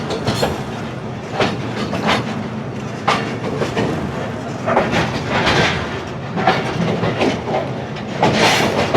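The 171 Up Sialkot Express pulls into Qila Suba Singh station, a loud steady rumble with rhythmic clickety-clack of wheels over rail joints and occasional metallic squeals, heard from on board without speech.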